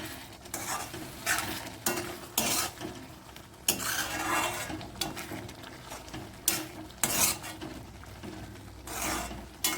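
Crab gravy is stirred in a cooking pot as oil separates, with repeated rhythmic scraping and clattering strokes over a soft simmering sizzle, close and fairly loud.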